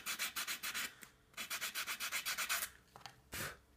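Hand sanding an edge during a model aircraft build: quick rhythmic back-and-forth rasping strokes in two close bursts, then a pause and a single longer rub.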